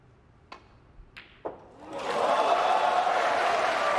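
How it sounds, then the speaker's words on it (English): At the 2019 Shanghai Masters, a snooker audience applauds a long pot by Ronnie O'Sullivan against Kyren Wilson. A few isolated sharp knocks come first, then dense applause rises and holds steady, loud and sustained. "Well, the crowd are getting behind him. That was a terrific long pot."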